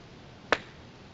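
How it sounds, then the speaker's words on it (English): One sharp hand clap rings out alone, a single crisp crack in a quiet room during a mysticism class, fading quickly into near silence. "The quicker I can clap my hands."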